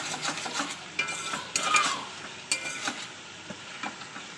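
Potato and meat curry being stirred in a pan on the stove, a spoon scraping and clinking against the metal in uneven strokes over a soft background sizzle, close and moderately loud.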